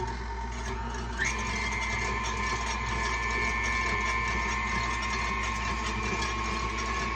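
An electric mixer whips egg white mixture for keto meringue, giving a steady, continuous mechanical whir with a tone that rises slightly in pitch early on, close and alone.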